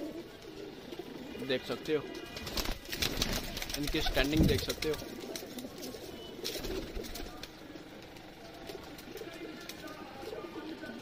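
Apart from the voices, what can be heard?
Ali and Teddy breed pigeons cooing in a loft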